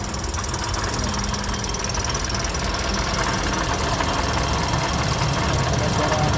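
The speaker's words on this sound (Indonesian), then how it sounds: "analisa bunyi kasar ngorok pada mesin Sigra Calya" A Daihatsu Sigra / Toyota Calya car engine runs with a rough, snoring, knocking roughness, a loud steady mechanical rattle heard up close throughout without pause.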